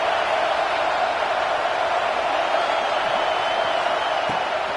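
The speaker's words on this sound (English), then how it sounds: "Listen to this crowd just shaking the girders of this place" A football stadium crowd in Arkansas roars in a dense, unbroken wall of noise to rattle the offense and support the home defense.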